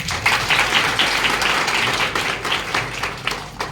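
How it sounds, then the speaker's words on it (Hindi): An audience at a business meeting breaks into loud, sustained applause, dense clapping from many hands continuing steadily throughout. "एक बार सर के लिए जोरदार तालियां।"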